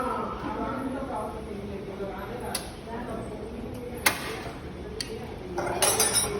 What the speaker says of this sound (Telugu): ఇప్పుడు ఇది మూత పెట్టేస్తాను